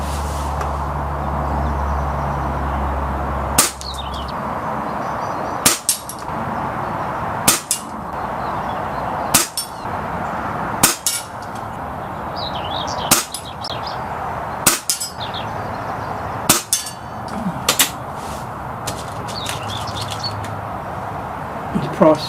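An SMK XS78 CO2 air rifle fires about nine sharp, loud cracks spaced roughly every two seconds at a target 25 yards away, with brief quiet pauses and faint background hum between shots.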